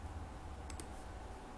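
A single faint mouse click on a Log Out button, two quick ticks close together over a quiet background hum.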